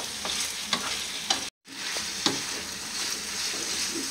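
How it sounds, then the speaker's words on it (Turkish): Ground meat sautés and sizzles in a pan for Turkish kadınbudu köfte, a steady frying hiss broken by scrapes and stirring strokes, with a brief drop in the middle, close and fairly quiet, no talking. "Kıymamızın da suyu çekene kadar kavuruyoruz."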